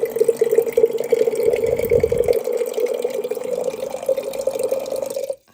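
Water from a 5 gallon jug is pushed through a hand pump and trickles in a steady, continuous stream, then cuts off abruptly near the end.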